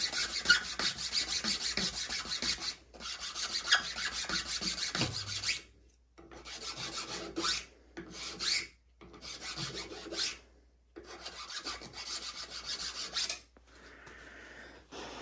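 A file rasps across the wooden tip of a longbow in repeated close strokes, grouped into several bursts a few seconds long with short pauses between them. No one speaks.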